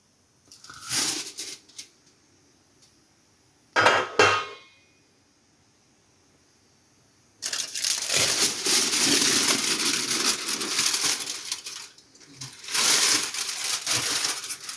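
A pot lid lifts off beef biryani with a brief clank, then a spoon turns and scrapes through the rice in loud, dense rustling bursts, close and without talk.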